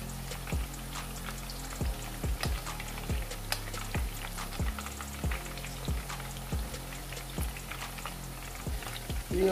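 Mutton koftas frying in hot oil, a steady soft sizzle with regular sharp ticks and spatters, close and alone with no voices.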